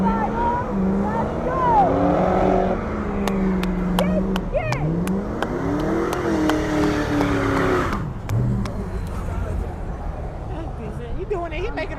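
A Dodge Durango Hellcat revs hard at a car meet, a loud sustained engine roar rising and falling in pitch, with a crowd cheering and talking close by throughout.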